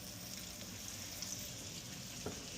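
Cube steak frying in hot grease in a home kitchen pan, a soft, steady close sizzle with a few faint pops and clinks.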